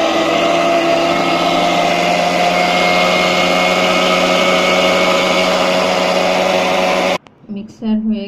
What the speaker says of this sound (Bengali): এগুলো আমি সব এখন গ্রাইন্ডার করে নেব।